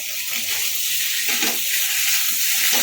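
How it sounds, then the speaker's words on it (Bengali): Potatoes for Pahari dum aloo being stirred in a hot pan, a loud, continuous sizzle with a few scraping pulses as the spoon moves. "ভালো করে নাড়াচাড়া করবে"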